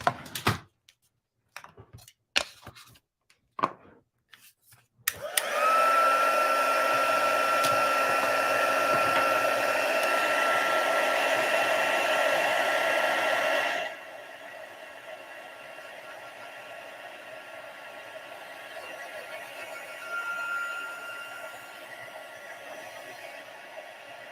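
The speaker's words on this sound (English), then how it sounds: "So let's emboss that, heat emboss." After a few scattered taps and clicks, a heat gun switches on for heat embossing on paper and blows a loud, steady, whining roar for several seconds. It then drops to a quieter hum.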